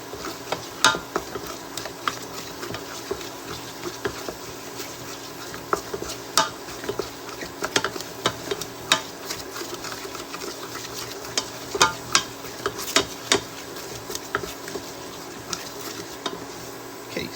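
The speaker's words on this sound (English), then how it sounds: "keep stirring until it starts to form a film on the bottom of the pan" Cream puff dough being stirred in a pan as it thickens into a paste, with frequent scraping strokes and sharp utensil knocks against the metal over a faint sizzle, no one speaking.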